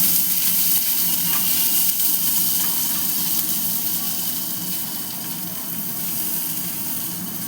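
Chopped onion fries in hot oil in a pan, making a loud, steady, close sizzle that hisses on without a break.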